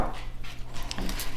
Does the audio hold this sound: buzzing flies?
no